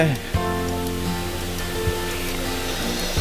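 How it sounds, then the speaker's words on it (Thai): The Khlong Chao waterfall on an island gives off a steady, rushing roar of falling water from some distance, heard under a continuous tonal drone. "ได้ยินเสียงน้ำตกพวกนั้นไหม"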